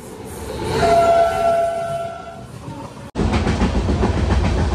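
Train 12618 Mangla Lakshadweep Express running near Panvel, heard from inside with steady rolling rumble and clatter, a sustained horn tone early on, then an abrupt louder roar of wheels and rails as it continues.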